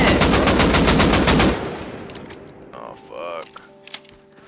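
Rapid automatic AK rifle fire in the survival game Rust, a loud, dense burst lasting about a second and a half before cutting off, followed by quieter clicks and mechanical handling sounds.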